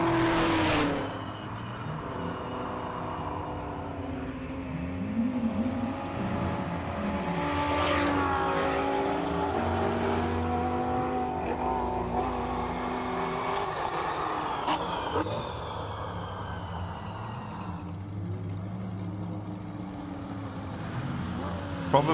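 An Audi R8 GT4 race car climbs the Simola hillclimb, its engine revving and roaring steadily through upshifts and a long sustained run, heard from trackside under a continuous commentary voice.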